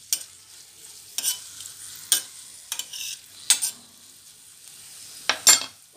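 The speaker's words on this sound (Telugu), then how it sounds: "కొంచెం వేగనివ్వాలి." Ingredients for paneer bhurji fried rice, including pounded garlic, fry in a pan with a faint sizzle, broken by sharp intermittent stirring scrapes against the pan at irregular intervals, close and without talk.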